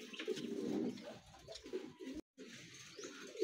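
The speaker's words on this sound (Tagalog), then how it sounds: "pakita ko nga din sa inyo itong mga kalapatid" Racing pigeons in a loft coo repeatedly in a low, throaty, overlapping chorus, close and fairly steady, with a brief drop to silence partway through.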